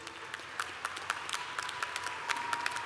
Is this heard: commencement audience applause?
yes